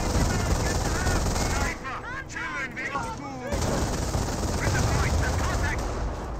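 Dense, continuous battlefield gunfire from a 50mm gun in the video game Company of Heroes, a loud rattling barrage that thins briefly in the middle as other chirping effects and speech come through, then returns at full strength.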